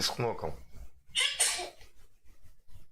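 A person sneezes in a Russian-language conversation; after a bit of speech comes a sharp, breathy sneeze burst, close and fairly loud, followed by quieter talking.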